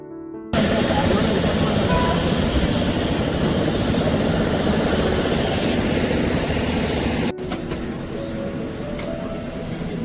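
A Vijayawada to Hyderabad passenger flight after landing, a loud steady engine roar heard from close by that cuts abruptly to a quieter hum near the end, with a voice talking over it.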